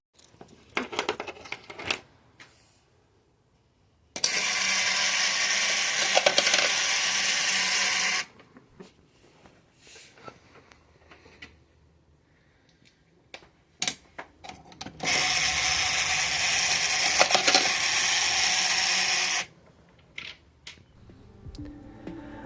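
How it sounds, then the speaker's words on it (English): Robot-shaped mechanical coin bank toy running, giving two sustained stretches of dense whirring and clattering mechanism noise, each about four seconds, separated by quieter clicks and small handling sounds. "here's a little video of that robot machine bank in motion"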